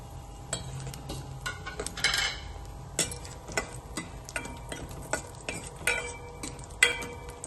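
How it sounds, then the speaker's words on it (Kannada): Cashews and raisins fry gently in ghee, with a soft steady sizzle under repeated scraping and clinking strokes of a spoon stirring the pan, close and fairly quiet. "ಈ ಥರ ಸ್ವಲ್ಪ ಬಣ್ಣ ಚೇಂಜ್ ಆದಮೇಲೆ ಅದಕ್ಕೆ ದ್ರಾಕ್ಷಿ ಹಾಕ್ಕೊಂಡು ಹುರ್ಕೊಳ್ಳಿ"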